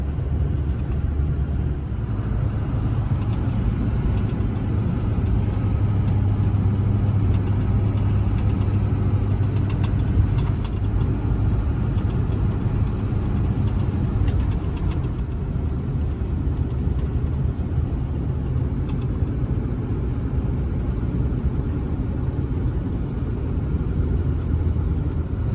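A car cruising along the old highway on Old Stage Road toward Grants Pass, Oregon, with a steady, continuous road and engine rumble held at an even level for the whole stretch, no voices.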